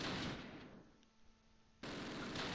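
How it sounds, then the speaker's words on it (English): Machine gun fire in the WWII video game Close Combat set at Veghel near Arnhem, dense rattling bursts at moderate loudness that cut off for about a second and then resume. "Can we get these guys to the rear of the building so the machine gun stops shooting at them?"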